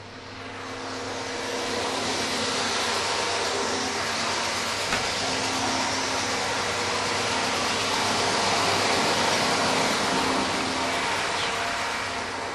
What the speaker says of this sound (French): La goulotte, la trémie qui est en train de se vider dans la benne avec la goulotte.